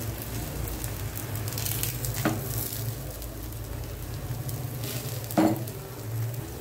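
A dosa of idli batter sizzles steadily on a large pan on a stove, with a constant close frying hiss and two faint clicks of movement.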